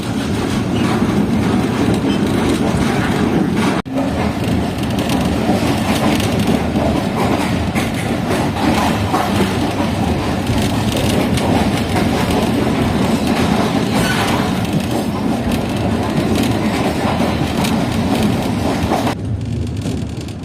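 The Karakoram Express runs toward Faisalabad railway station in a steady, loud, continuous rumble with a clattering hiss, heard from on board, without a break.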